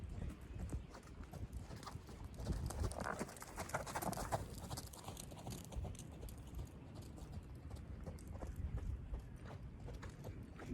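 A horse trots on a lunge line in a steady two-beat rhythm on soft ground, close by, with faint outdoor background noise.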